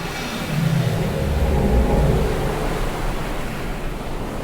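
Heavy storm waves on Lake Superior roll and crash in a steady, loud roar with a low rumble, around the ore-laden freighter Edmund Fitzgerald.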